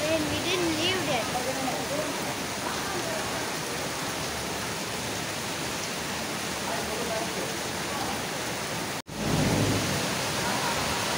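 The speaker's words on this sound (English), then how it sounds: "I'm gonna show you the rain" Steady heavy rain pours at an animal sanctuary in Bangalore, a dense continuous hiss that fills the scene, briefly cut off near the end before resuming, with a voice faintly present.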